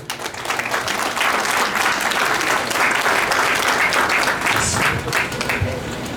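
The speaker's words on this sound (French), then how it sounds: "de recevoir un chaleureux applaudissement" Loud, sustained applause from a large crowd, dense clapping that swells and holds for several seconds before easing slightly.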